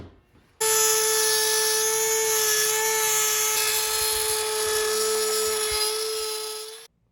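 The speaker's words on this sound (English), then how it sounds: "all I got's a Dremel, so I just using what I got" A Dremel rotary tool whines loudly and steadily as it cuts a hole for a CR Racing Yamaha intake, starting abruptly and running alone for about six seconds before cutting off.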